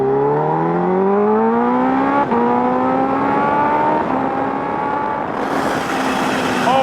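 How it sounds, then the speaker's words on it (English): A 2024 Kawasaki Ninja H2 motorcycle pulls hard, its engine note climbing steadily through the revs before a sharp hiss from the blow-off valve at the end, loud and close. "Here, let me give you guys a quick pull so you guys can hear the difference in sound."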